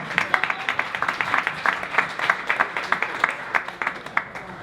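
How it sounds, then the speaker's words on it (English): A small group claps in a dense, uneven patter of overlapping hand claps, steady for several seconds with no voices standing out. "give us some claps and stuff"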